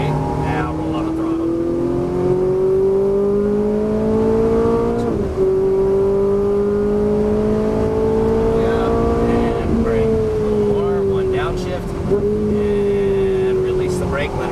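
A Ferrari 458 Italia's engine climbs steadily in pitch as the throttle rolls on, briefly dipping at shifts before rising again, loud and close with a voice talking over it.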